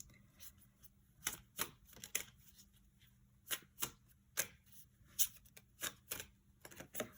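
Oracle cards shuffled by hand during a tarot reading, irregular crisp riffling and flicking bursts spaced through a quiet room, close and clear with no voices.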